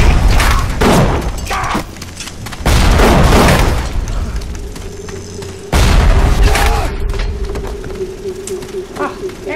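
Shooting in the video game Bioshock: three heavy, booming shots about three seconds apart, each trailing into a rumbling decay.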